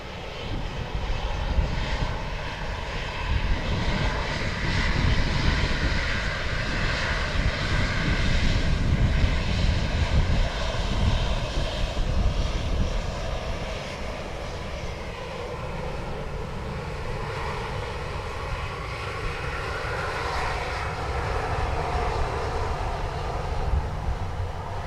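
A fixed-wing airliner lands at Dublin Airport, its engines roaring loud and steady for the whole stretch, a broad rumble that swells slightly midway and then holds without letting up.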